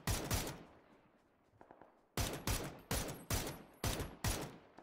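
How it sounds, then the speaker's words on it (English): Bursts of gunfire in PUBG, an opening volley then a run of six sharp, evenly spaced loud shots, close and clear with no talk over them. "shooting at me from behind"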